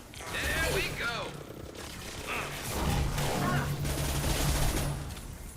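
Rapid submachine gun fire in the video game Mass Effect 2, bursts of shots mixed with game effects and a steady hum, with someone talking over it.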